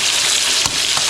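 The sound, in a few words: fish marinated in turmeric and salt frying in hot oil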